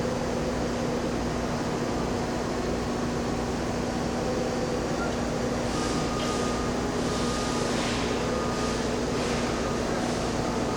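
An Okuma GU-34T CNC cylindrical grinder's main spindle runs up to speed, a constant loud mechanical hum with a steady drone, faint whooshing swells later on and no talking.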